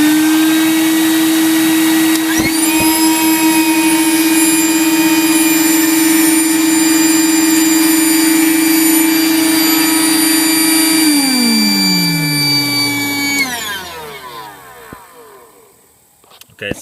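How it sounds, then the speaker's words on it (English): A shop vacuum and compressed air blower roar together in a loud steady whine, clearing shavings from a BMW engine block, for several seconds, then wind down and fall silent near the end. "We're going to vacuum and blow it out at the same time."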